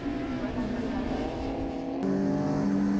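A Honda-engined Lotus rallycross car with a sequential gearbox racing at Pembrey, its engine droning steadily then jumping in pitch after a gear change, loud and close with commentary over it.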